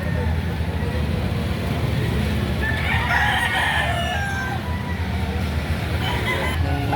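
Roosters crowing at a Saturday chicken market in Lipa City, Batangas, with one clear crow in the middle and clucking fowl, under people talking and busy market noise.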